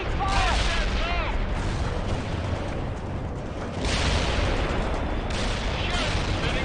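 Gunfire in the real-time strategy video game World in Conflict: Soviet Assault: dense battlefield shooting and booms under a continuous din, with radio-style voice chatter mixed in.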